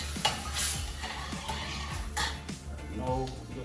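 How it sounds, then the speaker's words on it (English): A spoon scrapes and stirs pork belly with vinegar in a pot for Jamaican-style cooking, with a low sizzle underneath and a few close clanks against the pot. A voice speaks briefly over it. "Just wanna stir this."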